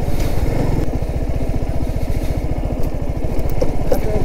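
A motorcycle engine on a dry riverbed in the Buxa Tiger Reserve near Alipurduar chugs loudly and close by, with a fast, even putter that stays constant throughout and some faint clatter near the end.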